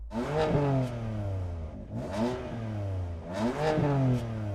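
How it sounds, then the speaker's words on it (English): A BMW M4 engine is revved three times in quick succession, each rev rising sharply in pitch and then falling back, loud and close with a prominent intake note. "Go on, give the M4 some revs."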